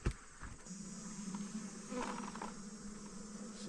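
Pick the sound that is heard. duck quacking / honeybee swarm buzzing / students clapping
honeybee swarm buzzing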